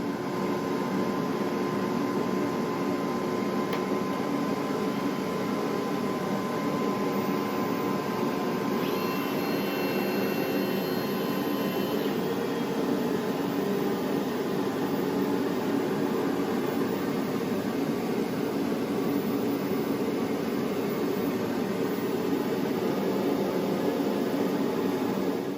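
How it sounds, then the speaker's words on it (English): A laser cutter runs at a steady, even drone like a fan or exhaust blower, with a faint constant tone above it. The sound stays unchanged throughout and no one speaks. "Here's the laser cutter."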